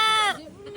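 A person imitates a goat with one loud, quavering bleat, followed by a quieter trailing sound.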